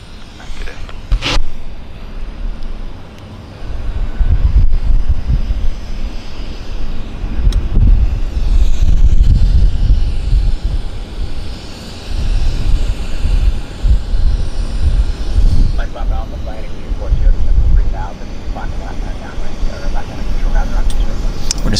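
Airliner engines roar and rumble at Vancouver Airport (YVR), a loud, sustained low wash with wind buffeting and surging swells, with people talking over it.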